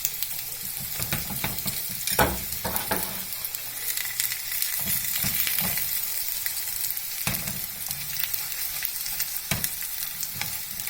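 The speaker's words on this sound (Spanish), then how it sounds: "un poco de nuestra manteca para empezar a freír nuestras tortillitas" Small corn tortillas fry in lard on a comal for sopes, giving a steady crackling sizzle with scattered sharper pops and occasional scraping stirs, close and alone without any talk.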